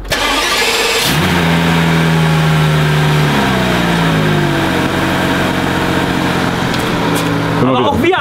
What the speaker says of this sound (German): das Auto hören wir uns mal von vorne an, weil dieser Anlasser-Sound vom V12 einfach unvergleichlich ist